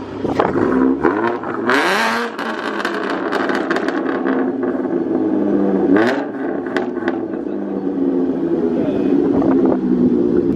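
A Mustang's M122-supercharged 3.7 V6 engine revving and pulling hard on a canyon drive, loud and close, with sharp exhaust pops crackling between rises in engine pitch, under wind noise and a man's speech.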